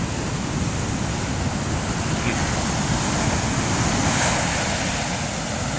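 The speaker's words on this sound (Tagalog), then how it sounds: "kung gaano kalakas ng alon dito." Strong ocean surf pounds the shore at San Juan, La Union early in the morning, a loud, continuous roar of breaking waves mixed with wind buffeting the microphone, with no voices heard.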